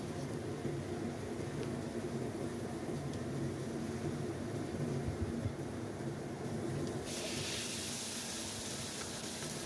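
Water hits an Indonesian stir-fry in a hot pan, and the food sizzles. A steady, faint, broad steam hiss continues throughout and brightens sharply near the end.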